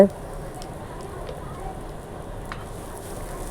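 Chicken sautéing in a pan for a tandoori chicken fry, a soft continuous crackle and sizzle with a few light pops, moderately close.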